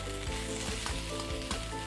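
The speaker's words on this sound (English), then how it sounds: "You can actually stir fry our veggies." Loud, continuous sizzling of vegetables stir-frying in a hot wok on medium heat, with steady hissing and occasional scraping knocks as the food is tossed.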